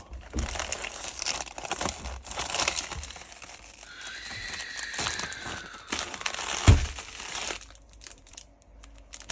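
A plastic cookie packet is handled and cut open quietly, giving bursts of crinkling and crackling with a sharp snip-like crunch partway through, close and fairly soft.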